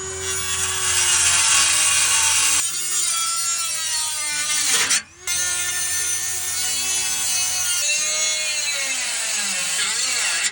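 A power saw cuts through the lower valance of a BMW E30 drift car in a loud, continuous grinding whine. It pauses briefly midway, then resumes with shifting pitch as the blade works through the panel.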